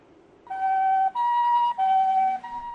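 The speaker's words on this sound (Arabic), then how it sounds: "حيث أنفق عبد القادر آدم كل مدخراته لتحويل سيارة فان قديمة إلى إسعاف" An ambulance siren in Somalia, on an old van converted into an ambulance, wails loud and close in alternating two-tone blasts, four steady notes with brief gaps, no talk.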